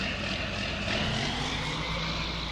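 A John Deere tractor engine in the Farming Simulator 19 video game runs as a loud, steady, continuous drone, constant in level throughout with no talk over it.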